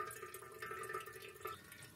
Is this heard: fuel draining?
yes